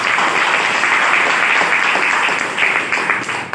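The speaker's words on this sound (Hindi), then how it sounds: "मैं चाहूंगा एक जोरदार तालियां दीजिए।" A crowd at a business meeting in Dwarka bursts into loud, sustained applause, many hands clapping together before it starts to thin out near the end.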